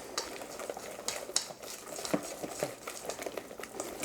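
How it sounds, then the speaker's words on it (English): Whisk stirring a Dutch advocaat egg mixture with vanilla beans and a pinch of salt in a bowl, giving steady close scraping and light clinking strokes at moderate volume with no talk. "Going to whisk that together again."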